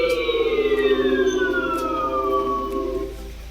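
Eclipse mode sound effect of an Ola S1 Pro electric scooter: a loud, near synthetic tone with several layered pitches sweeping slowly downward over about three seconds, then fading out.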